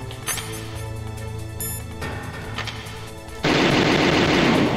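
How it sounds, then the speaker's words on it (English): Video game gunfire in Metal Gear Solid, bullets blocked by a samurai sword in a boss fight, heard as sharp metallic pings and rapid shots over a dense, continuous game background that swells into a loud, steady roar near the end. "he's blocking my bullets with his sword"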